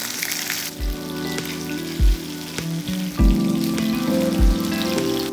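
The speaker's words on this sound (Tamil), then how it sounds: "நல்லா ஒரு சைடு வெந்ததுக்கப்புறம் நீங்கள் திருப்பி போட்டுக்கோங்க" Fish frying in oil in a pan, a steady crackling sizzle punctuated by several loud low thumps and clatters of handling, close and alone without voices.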